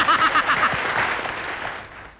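An audience bursts into applause at a comic stage ceremony, a brief, dense patter of clapping with a voice or chuckle mixed in at the start, fading slightly over two seconds.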